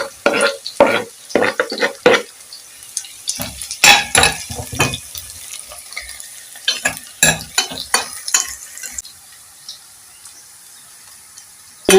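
Carrots drop into golden brown onions frying in a pan, with sharp irregular bursts of sizzling and stirring, spatula scrapes and pot clinks, loud and close, fading toward the end with no talk.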